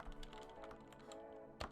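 Quick, faint keystrokes on a computer keyboard as a website address is entered, a rapid run of soft clicks ending in a slightly firmer tap.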